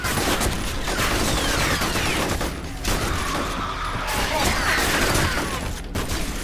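Sustained gunfire from the first-person shooter F.E.A.R., with continuous rapid automatic bursts and explosive booms filling the whole stretch at steady loudness, no talking.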